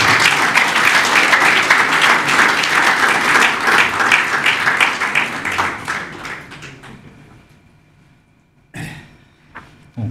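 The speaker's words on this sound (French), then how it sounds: "Gros applaudissements, bien évidemment," Audience applause at a book launch rings out loud and dense for about six seconds, then fades away to near silence, followed by a few scattered coughs or taps.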